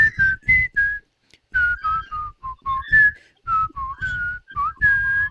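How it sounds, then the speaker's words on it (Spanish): Someone whistles the Colonel Bogey March tune, a clear, close melody in short phrased notes with brief pauses, over a low rhythmic accompaniment. "Ahí tenemos la tonada. Estamos silbando ya."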